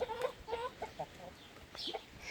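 Hens and roosters cluck in a short, quiet burst of several choppy calls close by, with a brief higher squawk near the end.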